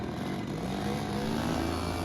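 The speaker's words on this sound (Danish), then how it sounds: "Med knallertlarm og høj sol drog Pias Disciple afsted mod Midskov Strand på Fyns Hoved" Mopeds ride off on a sunny day toward Midskov Strand on Fyns Hoved, Denmark. Their engines make a steady, close, fairly loud buzzing drone throughout, with no talking.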